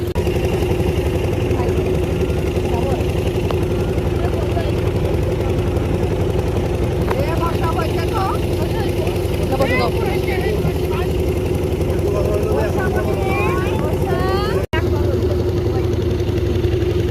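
A speedboat engine holds a steady, droning hum throughout. Voices can be heard faintly over it.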